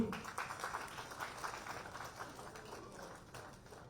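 Audience applause at a book event for an Odia actor's biography, a steady wash of clapping from a crowd, fairly faint and fading slightly across the few seconds.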